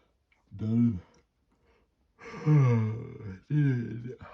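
A drawn-out, voiced yawn, then a second long yawning exhale after a pause, close and fairly loud.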